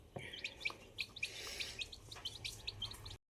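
Newly hatched chicks, about a day old, chirp in a steady run of high, rapid peeps, fairly close and alone without any voices.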